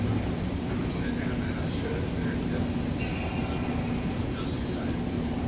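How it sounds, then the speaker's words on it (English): BART train arriving at a station on a rainy day in the San Jose area, a broad steady rumble and hiss filling the space, with voices talking faintly over it. "Somebody's definitely rushing down to get this train."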